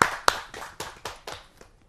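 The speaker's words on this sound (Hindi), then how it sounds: "ताली।" Clapping from a small audience at a Hindi poetry gathering, a few sharp, separate claps coming in an uneven rhythm and thinning out quickly to silence.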